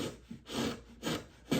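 A hand chisel pares excess wood from a guitar soundboard in a few short scraping strokes, each a breathy rasp with brief pauses between them, close and fairly quiet.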